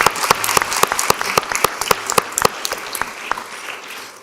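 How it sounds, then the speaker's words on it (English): At a school board meeting, an audience applauds talented young students with crisp individual claps that are busy at first, then thin out and fade toward the end. "let's give them one more round of applause."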